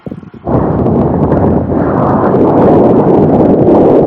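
A steady, loud roar of headwind buffets the microphone of a cyclist riding a long loop of cycle paths through the Veneto and Trentino, filling the whole stretch without letup after a brief opening.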